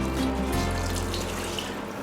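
A kitchen tap runs in a steady, close stream while Swedish meatball sauce is being made, with water splashing continuously and no talk over it.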